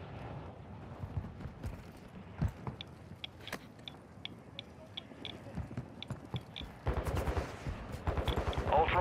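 Gunfire in the Call of Duty DMZ video game, sharp shots and bursts scattered across the clip, growing denser and louder toward the end as a heavy volley erupts, with game effects mixed in.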